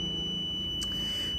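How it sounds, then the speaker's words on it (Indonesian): Electronic buzzer of a parking distance sensor holds a continuous high-pitched tone at distance under 10 cm, steady and moderately loud over faint background hum, with one brief click partway through. "buzzer tetap menyala"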